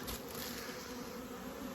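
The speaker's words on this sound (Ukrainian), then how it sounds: "Обліт молодої бджоли." A steady, dense buzzing of many young honeybees on an orientation flight near the hive fills the air without pause, fairly faint and even throughout.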